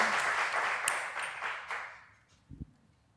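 Applause from an audience at a workshop debrief session, moderately loud clapping that fades away over a couple of seconds, followed by a couple of faint knocks near the end.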